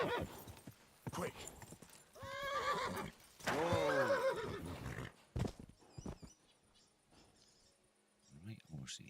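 A horse in a medieval video game lets out two loud, wavering neighs over hoof clip-clops, then things drop to faint ambient tones before a brief whinny returns at the end.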